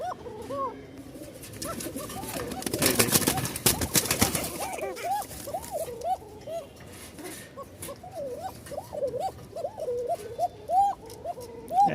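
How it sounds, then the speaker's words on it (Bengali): A frightened domestic pigeon gives repeated thin, wavering calls close by, alongside other cooing birds, a dog's bark and a short burst of rustling noise; someone talks at times. "একদম চিকন ডাক ভয় পাচ্ছে"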